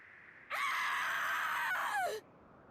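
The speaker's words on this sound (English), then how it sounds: "That was a scream." A character in the video game Final Fantasy XIV lets out a loud, sustained scream lasting under two seconds, its pitch sliding downward as it trails off, heard alone over a quiet background.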